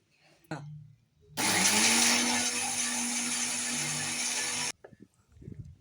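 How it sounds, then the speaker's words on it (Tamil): A mixer grinder grinding roasted coconut runs loudly for about three seconds with a steady high whine, then stops abruptly. Faint clatter and brief low voices come before and after. "வறுத்த தேங்காய் ஆறுன பிறகு தான் மிக்சியில் போட்டு அரைக்கணும்"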